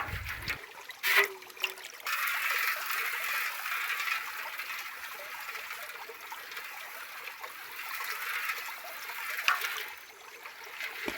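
Water swirls and trickles steadily in a gold pan during hand panning for gold nuggets, a continuous close sloshing with a brief splash near the start, heard alone.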